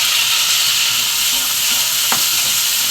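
Curry leaves dropped into a hot frying pan with chopped tomatoes for a green field-bean kara kuzhambu give off a steady, close sizzle that hisses evenly throughout, with a brief clatter partway through.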